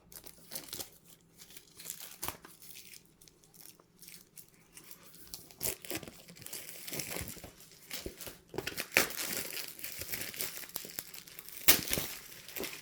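Quiet crinkling and crackling of plastic shrink wrap on a board game box as a pencil pierces it, with sharp pops and tearing bursts that grow busier toward the end, close up and without talk.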